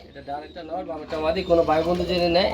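Soft, repeated cooing of Lahori pigeons with throaty, rolling notes, heard close by while a person talks over it.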